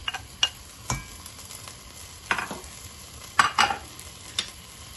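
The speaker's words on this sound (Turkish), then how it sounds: "Şimdi soğan, patates ve havucumu boşaltıyorum." Onion, potato and carrot go into a pot of lentils in hot oil for vegetable lentil soup, bringing low sizzling with several sharp clinks and scrapes of a spoon against the pot, close and uneven.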